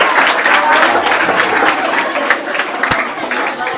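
Sustained applause from a school audience at a Marathi quiz competition for 5th to 7th graders, a dense steady clatter of many hands lasting several seconds with a few sharper claps near the end.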